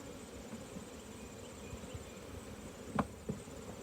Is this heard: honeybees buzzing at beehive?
yes